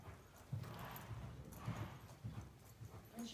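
A small horse cantering, with rhythmic hoofbeats in groups under a steady breathy background, moderately close, with no talking during the stride.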